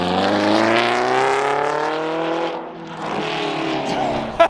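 A road-legal race car is driven at speed, its engine note rising and holding loud and close with continuous tire and motor roar, easing briefly before building again.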